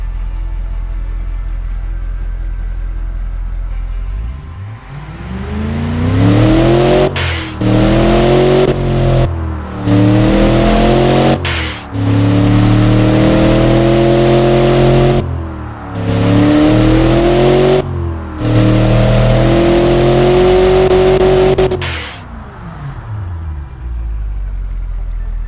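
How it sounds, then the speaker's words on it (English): A torquey production Ford Explorer V8 revs repeatedly from low to high RPM, loud and close, with several rising pulls cut by brief lifts off the throttle before it settles back to a steady idle. "it sounds great at low RPM and also great at high RPM for a normal production torquey V8"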